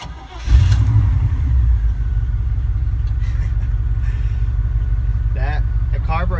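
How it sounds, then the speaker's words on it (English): A Chevy OBS truck's V8, paired with a 5-speed, cranks and fires into a loud, rumbling start, then settles into a steady idle, with a brief voice near the end. "Let's see, first crank of the day."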